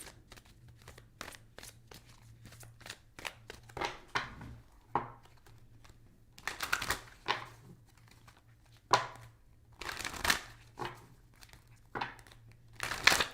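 Tarot cards shuffled by hand in bursts of crisp crinkling, flicking riffles, near and quiet, with a few separate rounds of shuffling broken by short pauses.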